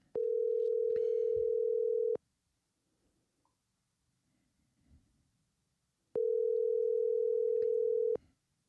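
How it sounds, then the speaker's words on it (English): Outgoing phone call ringback tone, two long steady buzzing rings about two seconds each separated by a four-second gap, clear and loud with faint room noise between. "you should be able to hear the ringing"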